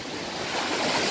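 Sea waves wash onto the shore at a summer beach, a close, continuous broad rush of surf that builds slightly louder toward the end, mixed with some wind and no talking.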